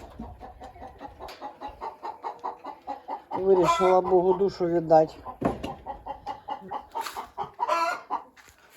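Chickens cluck and squawk close by inside a coop in the evening in a busy run of calls, with a person speaking briefly over the birds.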